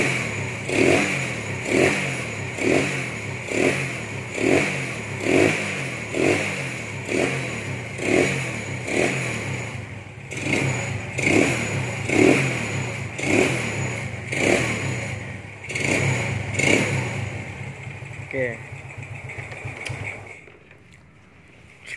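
A Modenas Kriss 110 motorcycle engine revs again and again in a steady rhythm, each blip rising and falling, then settles to idle and cuts off near the end.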